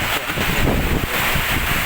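Heavy rain and gusting wind, a dense broadband rush close to the microphone with buffeting throughout, and a voice speaking faintly under it.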